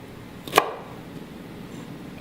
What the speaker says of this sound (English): it's nice to just cut the bottom off of all of them